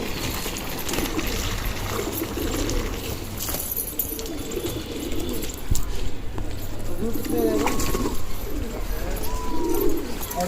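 Pigeons coo in soft, repeated throaty calls as they are brought indoors, partly buried under steady outdoor background noise and someone talking nearby.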